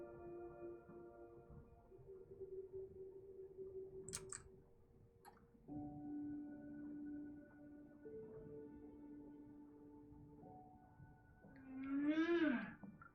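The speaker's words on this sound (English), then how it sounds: "That's a humpback, if I've ever heard one." Humpback whale calls underwater, long tonal moans and hums shifting in pitch, a few faint clicks midway, and a louder rising-then-falling whoop near the end.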